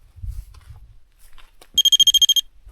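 A ghost-hunting detector device sounds its alarm, a rapid run of about ten loud, shrill electronic beeps near the end, following quiet handling noises.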